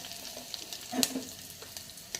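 Ground masala hits a pan of fried onions with a brief loud sizzle, then a softer crackle and a few spoon scrapes, close and with nobody speaking.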